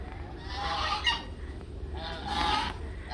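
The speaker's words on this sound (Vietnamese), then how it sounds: "À, có mấy ngỗng kìa đưa đưa cái miệng sợ muốn xỉu." Geese at a fruit garden in Ben Tre, Vietnam, honk loudly in two harsh bursts at close range, with low background rumble.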